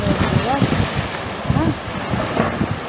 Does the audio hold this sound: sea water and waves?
yes